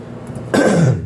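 A single short, rough throat clearing, close and fairly loud, follows a moment of quiet room noise.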